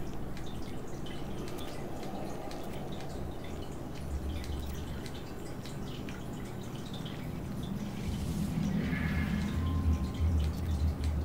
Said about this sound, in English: Yeah, it's water.